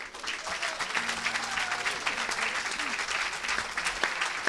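A church congregation applauds the Lord with sustained, dense clapping that fills the room, a steady crowd roar of hands with faint voices beneath.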